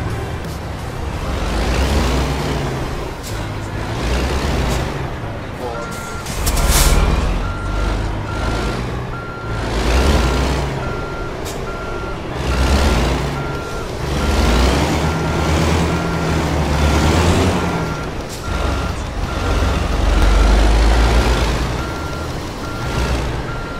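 A large truck with a trailer backs up on a construction-site street in American Truck Simulator, steady reversing beeps repeating over a low diesel rumble that swells and fades in waves, with occasional air-brake hisses.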